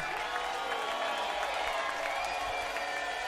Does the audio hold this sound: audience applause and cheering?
yes